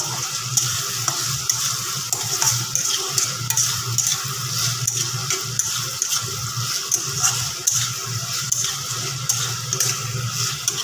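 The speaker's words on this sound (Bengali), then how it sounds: "এবার দিয়ে দিচ্ছি আমি এর মধ্যে একটু টমেটো সস আমি একটু মিক্স করে নেবো" Tomato sauce being stirred into pasta in a home kitchen pan, a steady run of soft scraping and wet sizzle close by for about eleven seconds, with no talking.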